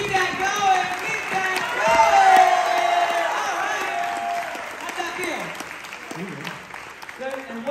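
A college audience at a hypnosis show on a university campus claps and cheers loudly as a volunteer returns to his seat. Whoops and shouted voices ride over the steady applause, which eases off toward the end.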